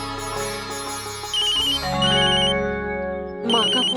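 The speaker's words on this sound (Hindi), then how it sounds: "माँ का फोन है।" A mobile phone ringtone plays a bright, repeating electronic melody near an airport, loud and close, with a drone underneath and a sharp burst of tones at the end.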